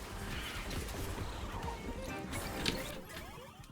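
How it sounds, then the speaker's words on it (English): An odd horse creature in Temtem Swarm gives a neigh near the end, mixed into crashing, cluttered game effects with no talking. "The weird horse is rude."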